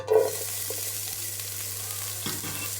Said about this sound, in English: we're going to allow the onions to cook until they turn dark brown